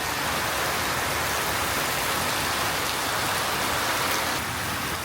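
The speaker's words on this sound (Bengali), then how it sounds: "জোরে বৃষ্টি চলে আসছে" Heavy rain pours down near a veranda, a dense, steady hiss that stays loud and unbroken throughout, with no voices.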